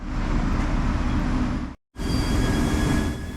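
A metro train runs through Piața Romană station in Bucharest, a loud, dense rumble and roar with faint high squeals, cut off by one brief silent gap before it resumes at full strength.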